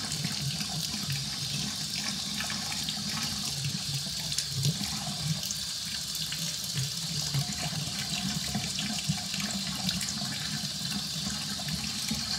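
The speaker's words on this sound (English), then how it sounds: "so I turn on the water" A bathtub tap with chrome fixtures runs steadily, giving a continuous even rush of water throughout, close by and with no talking.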